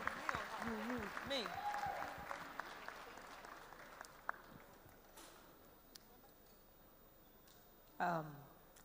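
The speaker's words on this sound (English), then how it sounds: "A round of applause, thank you." A pageant audience applauds during the Miss Nigeria 2017 question-and-answer session. Faint, distant clapping runs beneath a host's voice, then thins to a few scattered claps and a brief loud burst of speech near the end.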